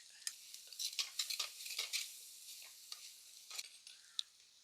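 Onion, tomato and crushed ginger-garlic sautéing in a pan for a Palakkad-style chicken curry, a faint, soft sizzle broken by quick stirring scrapes and light clinks of a spoon; no talking.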